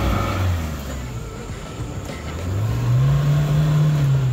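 An off-road vehicle's engine revs on a dirt trail in Rizal, a close, continuous rumble that dips and then climbs into a rising, sustained rev.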